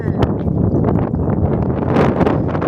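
Sea wind buffets the microphone in a steady broadband rush, loud and continuous, with occasional gusty peaks and no clear speech.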